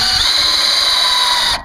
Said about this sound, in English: I was able to go through and start drilling into the metal